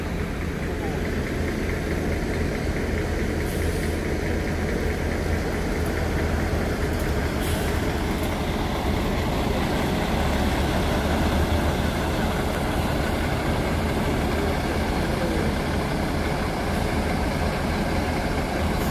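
Steady low engine rumble of a bus idling or running nearby, continuous throughout, with faint voices underneath.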